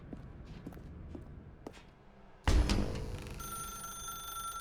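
A telephone in The Stanley Parable: Ultra Deluxe starts ringing after a few quiet footsteps in a dark room, a sudden loud bell that settles into a sustained electronic ring.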